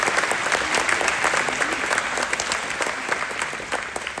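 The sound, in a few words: audience applause at school awards assembly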